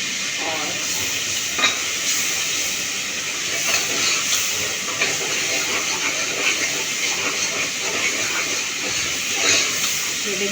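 Masala fries in oil with a continuous soft sizzling hiss and occasional stirring scrapes, close and steady throughout without talking.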